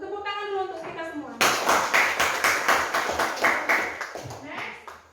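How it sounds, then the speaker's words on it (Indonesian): After a brief spoken line, a classroom of students claps hands in a loud, rhythmic, nearby beat of roughly a dozen sharp, evenly spaced claps, with a voice returning at the end. "Untuk tepuk tangan dulu untuk kita semua"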